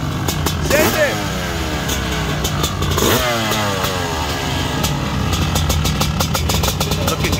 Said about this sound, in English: CR500 blacked out swing arm. Stretched swing arm, as you can see. Sounds good.